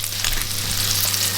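Pieces of fish sizzle steadily in a frying pan, a close and continuous crackle with a faint low hum underneath, as two forks turn them over.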